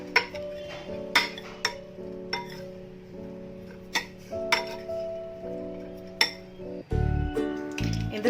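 Roasted masala powder and a little turmeric stirred into fried eggs in a pan, giving repeated sharp clinks of a utensil against the pan over a low steady hum, then a louder scraping burst near the end.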